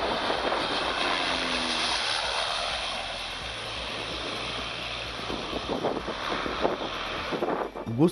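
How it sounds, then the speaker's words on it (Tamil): A propeller airplane landing at Gustaf airport on Saint Barthélemy, its engine droning at a distance under gusty wind noise on the microphone, growing rougher and louder toward the end. "குஸ்டாஃப் விமான நிலைய ஓடுதளத்தில் விமானம் இறங்கினால் கடற்கரையை நோக்கி பாய்வது போல் இருக்கும்."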